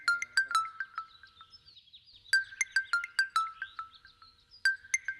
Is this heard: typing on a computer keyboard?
no